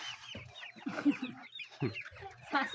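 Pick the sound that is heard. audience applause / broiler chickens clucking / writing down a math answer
broiler chickens clucking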